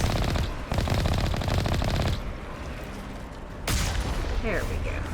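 Enemy Geth gunfire in Mass Effect, rapid automatic bursts rattling loudly in long runs, broken by a short lull before firing resumes, with a voice talking over it.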